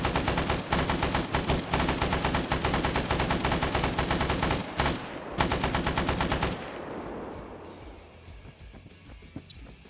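An artillery barrage in a competitive war video game match sounds as a loud, continuous roar of overlapping blasts. It runs for several seconds, then dies away into a few scattered, fainter reports.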